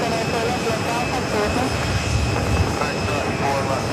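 An aircraft arrives and lands on runway 4 left at JFK. A loud, continuous engine roar with a faint steady whine on top runs unbroken and close throughout.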